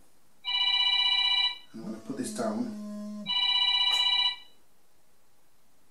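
A mobile phone rings in two short bursts of electronic trilling. Someone speaks briefly between the rings.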